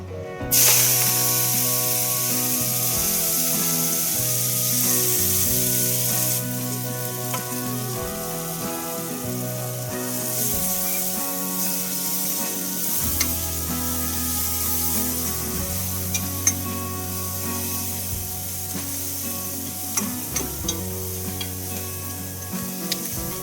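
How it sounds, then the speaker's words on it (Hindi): Spinach leaves hit a hot Indian tempering in a home kitchen and set off a loud, steady sizzle that carries on throughout, with a few small clatters of stirring over the crackle. "थोड़ा सा पालक पट्टी भी तड़के के बाद तुरंत डालना है।"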